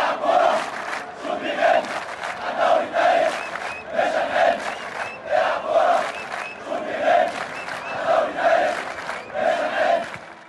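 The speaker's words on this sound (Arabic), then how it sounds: "هتافات للعيبة كلها وتحية للفريق وهتافات كتير بتطالبهم بانتزاع صدارة الدوري من المنافس" Zamalek football supporters chant together in a stadium ahead of a league match, a huge crowd repeating a rhythmic call in steady pulses for ten seconds, loud and unbroken.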